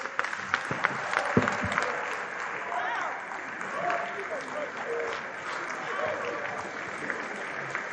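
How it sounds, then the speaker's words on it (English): A large audience gives a standing ovation at the Olusola Saraki memorial lecture, with sustained, even clapping filling the hall at a moderate level and a few sharper claps at the start. "Unprecedented standing ovation for him"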